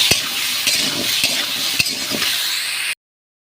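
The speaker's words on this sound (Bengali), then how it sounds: "আর দিয়ে দেবো টমেটোটা, এটাতে একেবারেই ভেজে নেব।" Tomato sizzles steadily in a hot pan, and a spoon taps and scrapes the pan several times as it stirs. Close and continuous.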